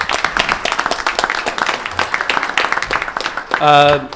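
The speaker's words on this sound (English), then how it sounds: "Let's give them a big round of applause, everybody." Audience at a town meeting in a school clapping in a brief, uneven round that is fairly close and loud, with people talking over it and a short tonal sound near the end.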